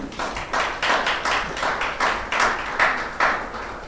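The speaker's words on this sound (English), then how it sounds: "I'm sure we should be clapping now" Slow, evenly spaced clapping at a policy seminar on FinTech in Africa, about nine distinct claps in a steady rhythm, fairly close and clear with no talk over them.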